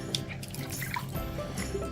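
Water drips and trickles from a hotel room sink tap, a steady close liquid patter over a faint room hum, with no speech.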